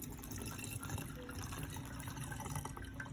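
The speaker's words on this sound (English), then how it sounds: "I'm just going to pour it into the container with a funnel." Alcohol is poured through a funnel into a container for homemade hand sanitizer, making a quiet, steady trickling and filling sound close by.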